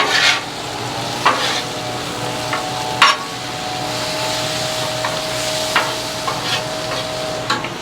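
Vegetables browning in a pan beside a Char-Griller Gravity 980 smoker, a steady close sizzle with periodic scraping and clattering tosses, a faint hum running underneath.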